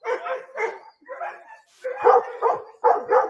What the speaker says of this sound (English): This is the last time I take this dog hunting.